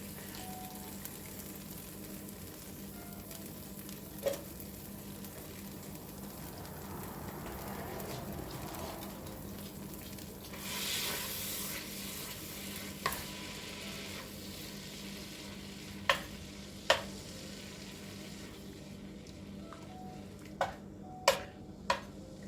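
Salted butter melts in a pot with a low, steady sizzle that runs through the whole stretch, broken by a few sharp ticks and clinks of a utensil near the end.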